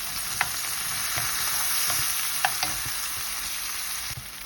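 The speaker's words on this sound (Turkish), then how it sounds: "Şimdi üzerine bir tane domates kabuklarını soydum. İki dişli sarımsağımla. Bunları da kavuracağım." Peeled tomato and garlic sautéed in a pan, giving a constant close sizzle broken by a few sharp taps and scrapes of a utensil.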